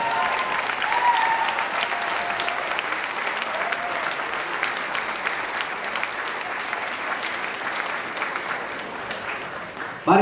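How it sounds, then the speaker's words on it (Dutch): Thunderous audience applause for the finalists of the Miss Fashion pageant, a dense, sustained wall of clapping that holds steady for about ten seconds with a few faint voices mixed in. "ik wil nog een daverend applaus voor al onze andere finalisten"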